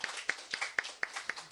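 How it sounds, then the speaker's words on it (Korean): Church congregation at a Sunday worship service clapping in a steady rhythm, about six sharp, evenly spaced claps in quick succession, close and fairly loud. "박수 한번."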